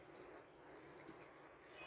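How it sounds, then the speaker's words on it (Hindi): Water is poured steadily into a cooking pot while making beef keema pulao, a continuous close gushing stream with no talk. "पानी ऐड करेंगे।"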